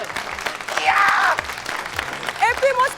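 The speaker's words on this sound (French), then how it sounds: "Applaudissons-le" A studio audience at a French comedy show applauds steadily, with scattered cheers and voices over the clapping throughout.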